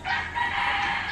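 A chicken calls out in a single drawn-out crowing cry, fairly clear and moderately close, with no talk over it.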